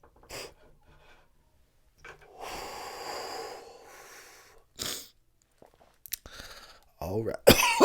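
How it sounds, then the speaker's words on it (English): A person coughs and snorts in several short, separate bursts between quiet breathing, with a sharp, loud fit of coughing or sneezing near the end. "Gotta cough."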